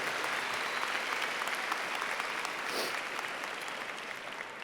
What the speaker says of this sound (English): So please give me a warm round of applause for Ms. Winkler